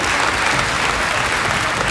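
A school audience at Corbin Middle School claps hands together, a dense, loud, continuous burst of applause filling the room for the whole stretch.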